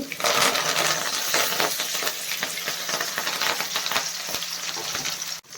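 Garlic, mint and curry leaves frying in hot oil in a pan for tomato rice, a loud, close, crackling sizzle with spatters and light stirring throughout.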